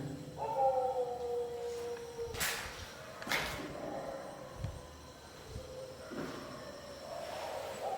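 Dogs howling at night near a boys' hostel, long wavering howls rising and falling in the first seconds, then fainter distant howls under a steady night background, with a couple of sharp broadband cracks.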